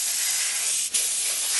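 An aerosol spray can lays a basecoat on a Howling Griffons miniature model in one steady, close, loud hiss that breaks off for a moment near the middle before resuming.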